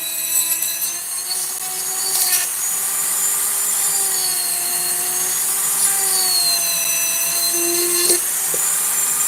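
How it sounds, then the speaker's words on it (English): A rotary burr cuts into maple hardwood, a steady high whine with a harmonic stack that shifts in pitch as the load changes, running continuously close up with brief scratchy bursts and no talking. "I am getting a good smooth cut with this burr"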